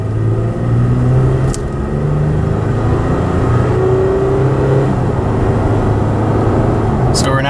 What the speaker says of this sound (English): I'll just kind of accelerate hard.